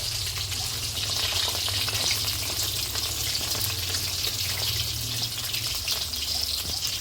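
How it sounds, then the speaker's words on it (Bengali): Green chillies sizzle in hot oil with a steady, close crackling hiss that holds evenly throughout, with a faint low hum underneath and no voices. "লঙ্কাগুলো ভাজা হয়ে গিয়েছে"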